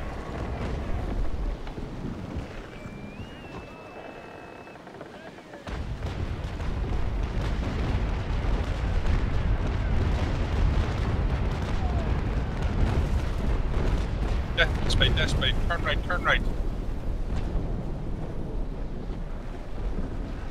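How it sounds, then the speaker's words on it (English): Naval Action sea battle: after a brief quieter lull, a ship's cannon broadside booms in and sustains as a heavy, continuous low roar with wind and sea noise, plus a short burst of higher crackling around mid-clip. "Everybody left broadside on Admar, right side."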